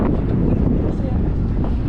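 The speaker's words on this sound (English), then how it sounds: "It's more windy up here." Wind on Tower Bridge in London rumbles and buffets the microphone steadily throughout, a dense low roar with no clear voices.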